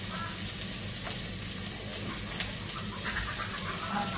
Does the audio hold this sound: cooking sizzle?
yes